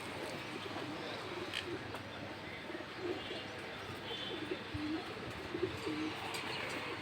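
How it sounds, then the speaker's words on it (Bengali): A pigeon coos softly several times against steady background noise, low and moderately distant, with faint chirps around it. "এই যে কবুতরটা"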